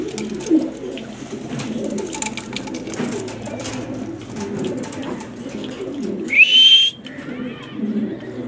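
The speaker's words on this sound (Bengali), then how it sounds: "খুবই ভালো একটা মাদি কবুতর" A female pigeon in a loft coos softly against a low background murmur. Near the end comes a brief, louder whistling call.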